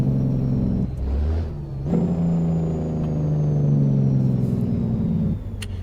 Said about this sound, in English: Love the way this truck sounds.